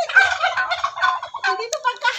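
Turkeys gobble in a dense, overlapping chorus, loud and close, with rapid warbling calls continuing throughout.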